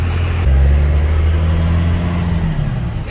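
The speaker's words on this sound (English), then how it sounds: "Let her get warmed up for a moment though. It's pretty loud." Toyota Supra fitted with a GTX series turbo running around 40 pounds of boost, idling loud and close, with a steady low engine drone that shifts once partway through and no talking.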